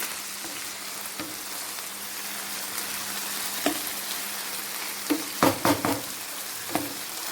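Vegetables for karnıyarık sizzle steadily in a hot pan, with occasional clacks and scrapes of stirring.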